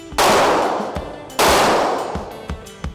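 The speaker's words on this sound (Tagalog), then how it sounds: "Erson, kamusta naman ang practice day natin ngayon sa firing?" A gun fitted with a new barrel fires at firing practice. Two loud, sharp reports each ring out into a long echoing decay, with fainter shots popping in between.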